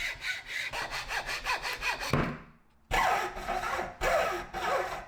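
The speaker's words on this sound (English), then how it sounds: "Time to settle in for a nice session of hacksawing." Rhythmic back-and-forth strokes of a hacksaw cutting through wood, close and steady, with a brief pause before the sawing resumes in longer strokes.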